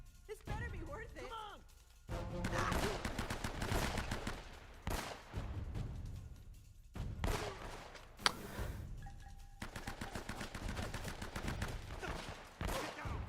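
Rapid bursts of automatic gunfire in the Uncharted video game, repeated volleys separated by short pauses, fairly faint overall, with someone talking between and over the shots.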